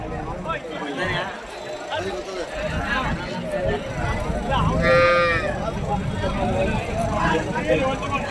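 Cattle lowing at a busy rural livestock market in Karimangalam, Dharmapuri district, with a clear moo rising near the middle over steady crowd chatter, other animal calls and people talking throughout.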